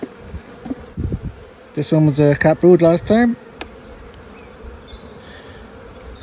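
Honey bees humming around an opened hive during a spring inspection, a low continuous buzz under someone speaking near the start, the buzz carrying on alone afterwards.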